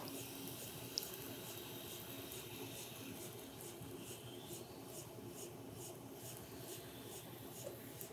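A rib smoothing the inside of a wet clay bowl on a spinning pottery wheel gives a steady soft rubbing hiss with a faint repeating rhythm over the constant hum of the wheel.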